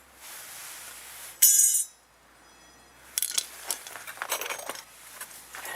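A sharp metallic snap as a front brake clip is popped out on a 2009 GMC Sierra, then a run of small clinks and scraping rattles of metal parts close by, with no talking.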